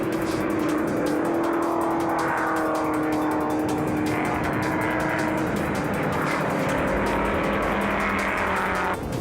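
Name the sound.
vintage race cars, Alfa Romeos and Chevy Nova, racing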